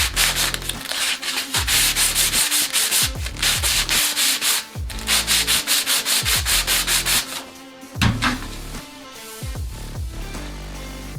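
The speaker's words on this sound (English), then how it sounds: "So the next step is hand sanding." Pallet wood sanded by hand with a sheet of sandpaper, loud close rhythmic scratchy strokes in quick bursts separated by brief pauses, with no talking.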